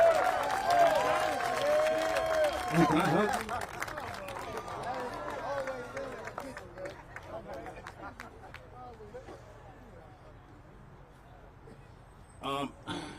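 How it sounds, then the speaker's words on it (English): At a street-naming ceremony, an outdoor crowd applauds and cheers for the Shakur family, starting loud under a speaking voice and gradually thinning into scattered clapping and murmurs. "Give them a big round of applause to the Shakur family."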